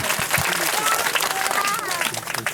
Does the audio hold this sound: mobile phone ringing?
no